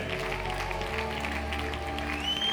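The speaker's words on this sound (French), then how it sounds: "Applaudissons pour la parole de Dieu." A church congregation at a prayer marathon applauds together, a steady wash of clapping held at an even level for a couple of seconds over a sustained organ-like musical tone, with no speech on top.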